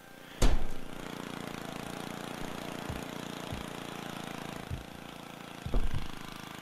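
A lawn mower engine in the video game Happy Wheels chugs steadily with a sharp clunk at the start and a few bumps and thuds along the way.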